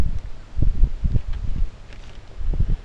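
Gusty wind buffeting a microphone outdoors, low rumbling bursts that rise and fall irregularly, loud and close, with no voices.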